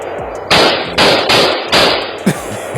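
Five loud, sharp gunshots at close range in viral live footage, fired in quick irregular succession about half a second apart, with no talking.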